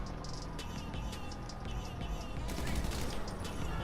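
Gunfire from free aiming at a target in GTA Online, a rapid string of sharp shots over steady low engine rumble, growing denser in the second half, moderately loud.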